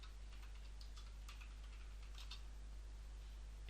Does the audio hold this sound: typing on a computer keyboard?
yes